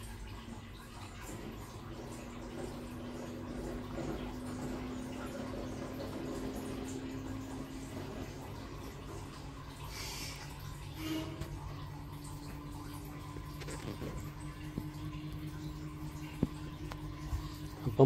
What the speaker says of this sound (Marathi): हे बघा किती स्पीडने फिरतंय ते.